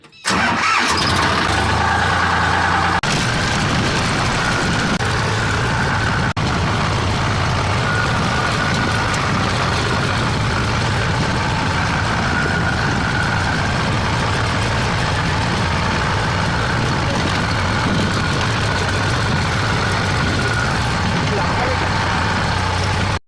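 A tractor's engine runs at a steady, loud idle with a constant low rumble after a brief start at the beginning; someone talks over it.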